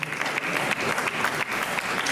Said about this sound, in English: Can you give a big round of applause for Dave, Jeevan ji, and the whole team?